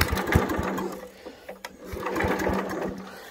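A Briggs & Stratton 5HP engine on a Hayter Osprey 21 roughcut orchard mower sputters and fires, a rapid uneven chugging with a steady hum underneath, close and moderately loud with brief dips as it catches.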